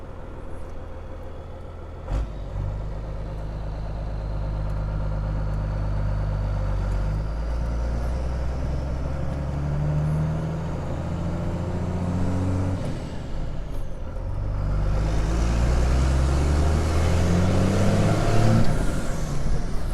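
Truck engine idling with a low steady rumble, then revving up and down in several swells during a downshift, heard from inside the cab, loud and continuous without speech.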